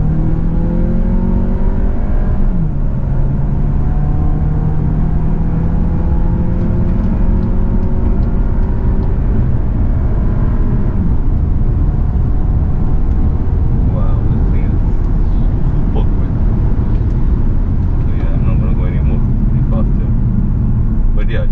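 A Volkswagen Tiguan Allspace with a 2.0 TSI petrol engine, 4Motion and a DSG7 gearbox accelerates hard in sport mode. Its engine drones loud and steady from inside the cabin, the tone rising through gear changes, with a voice talking over it.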